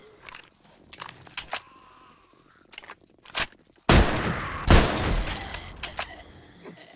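Shotgun blasts in 7 Days to Die during a Ravenhearst mod horde night: a few soft clicks and thuds, then two loud, booming shots about a second apart, each leaving a short ringing tail.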